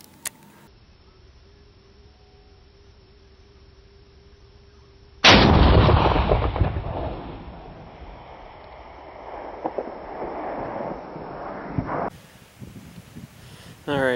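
Long-range rifle shot during groundhog hunting outdoors, one sudden loud blast after a quiet stretch, followed by a long rolling echo that fades over several seconds amid wind.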